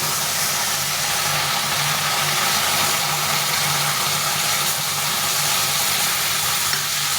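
Spice paste frying with bitter gourd and drumstick vegetables after a splash of spice-bowl rinse water, a loud, even, continuous sizzle with a faint low hum underneath and no talk.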